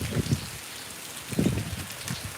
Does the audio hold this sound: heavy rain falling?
yes